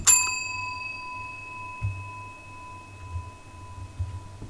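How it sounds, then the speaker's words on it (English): A bright bell in a haunted house video game rings with a sharp metallic ding at the start, its pure tone sustaining and slowly fading, while faint low thumps and small clicks sit under the lingering ring. "He just spamming his freaking bell, bro."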